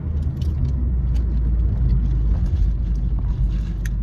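Car driving along a road, a steady loud low rumble of engine and road noise filling the cabin, with faint small rattles and clicks on top.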